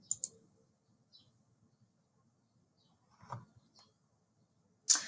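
A few faint, isolated computer mouse or keyboard clicks sound at the start, around the middle and at the end, separated by near silence.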